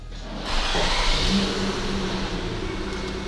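Toyota Camry 30 engine, fitted with gas equipment, starts up; a brief cranking leads into a steady close idle hum with a faint hiss.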